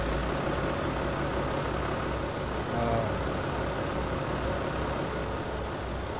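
Ford tractor engine from the video game Farming Simulator 2017 drones steadily at a low, even idle, loud and close throughout with no talking.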